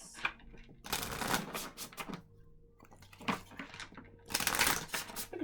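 Tarot cards are riffled and shuffled by hand in several close, crisp bursts of fluttering paper clatter separated by short pauses.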